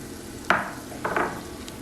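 A spoon scrapes through flour stirred into melted butter in a pan, making a thick paste for chicken pot pie, with a few short soft stirring strokes over a low background hiss, close and fairly quiet.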